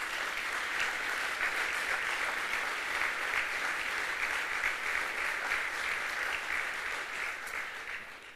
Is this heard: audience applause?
yes